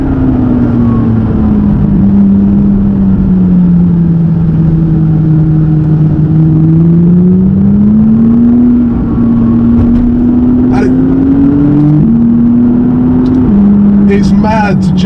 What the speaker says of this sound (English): The 570 GT, and I'm using it to do the twisty and the turny country roads in Gloucestershire.